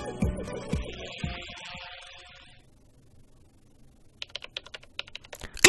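Rapid clattering keyboard typing from the video game Ace Attorney: Spirit of Justice, a quick burst of dense keystrokes after a stretch of quieter game sound, close and fairly loud with no talk over it.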